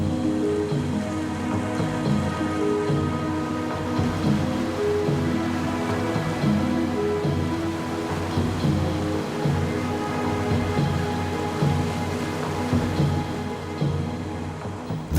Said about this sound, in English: The Churim waterfall